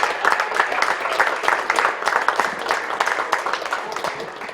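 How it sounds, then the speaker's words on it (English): A crowd at a polo club match applauds both teams, a steady dense patter of clapping that holds at even strength throughout without a break. "how about another round of applause for both our teams right there"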